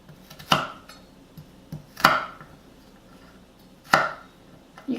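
A knife chops kohlrabi into bite-sized pieces on a cutting board, giving three sharp, distinct knocks about two seconds apart, with softer taps between them and no talking.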